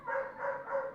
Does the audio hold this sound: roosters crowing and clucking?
no